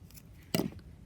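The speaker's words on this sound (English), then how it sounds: "finally snip your wools" A single quick snip of scissors cutting knitting wool, close and soft, over a quiet room.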